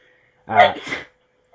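A single short sneeze, close and fairly loud, a sharp burst with a trailing exhale in otherwise quiet surroundings.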